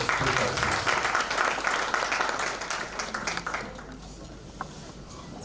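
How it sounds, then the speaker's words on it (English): An audience at a graduation ceremony for a senior and middle level management course gives a round of applause. The clapping is dense and loud at first, then thins and fades toward the end. "May we give her a round of applause."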